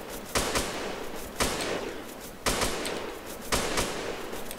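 Video game gunfire comes in four evenly spaced bursts of loud, sharp shots, each followed by a fading crackle, with no voices over it.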